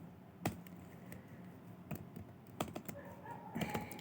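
Close, quiet clacking of a computer keyboard as JavaScript code is typed, irregular keystrokes in short bursts with gaps between, clustering faster near the end, no speech.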